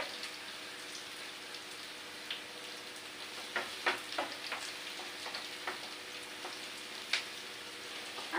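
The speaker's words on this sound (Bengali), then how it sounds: "পেঁয়াজগুলো একটু ভাজি করে নিয়ে তারপরে শাকটা দিয়ে দেবো।" Onions frying in a pan before red amaranth greens go in, a soft steady sizzle with a few sharper pops and crackles scattered through, close and fairly quiet with no talking.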